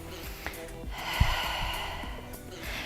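A single breath drawn in during a standing lower-body strengthening workout, a soft, breathy inhale over a steady low background hum, with a brief thump partway through.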